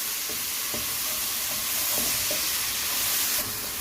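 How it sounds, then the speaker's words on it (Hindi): Garlic ginger paste sautéing in hot oil in a pan for fish biryani: a continuous loud sizzle close up, with a few soft scraping stir strokes under it and no talking. "इसको हम थोड़ा सा सौते करेंगे, लाइट गोल्डन जैसे हो जाएगा"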